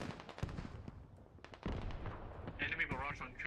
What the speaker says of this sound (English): That hell cannon's still firing relentlessly.